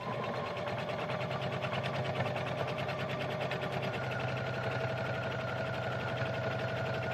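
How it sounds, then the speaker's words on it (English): A sewing machine stitches lining fabric to wadding for a tote bag, its needle running in a steady, fast mechanical rhythm without pause, close and fairly quiet. "this is joining the lining fabric with the wadding so that you haven't got to worry about it sort of moving later"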